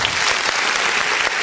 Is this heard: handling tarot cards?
no